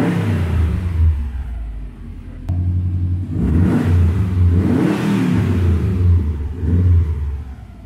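A Subaru GC8 STI engine runs and revs repeatedly, a loud, close mid-pitched rumble that rises and falls in several swells over a steady idle.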